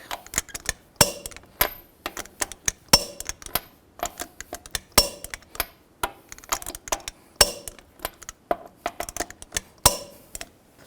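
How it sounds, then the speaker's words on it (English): Lug nuts on the front wheel of a 2000-06 GMC Yukon are torqued in a star pattern to 140 foot-pounds, producing close, sharp metallic clicks and clanks in irregular bursts with no talking. "now I'm going to torque these lug nuts in a star pattern or cross pattern to 140 foot-pounds to tighten the wheel down evenly"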